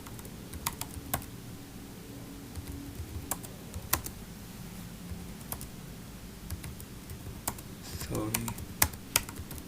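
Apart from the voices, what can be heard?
typing a command on a computer keyboard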